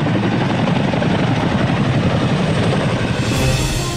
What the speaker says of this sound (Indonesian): helikopter mengangkat tank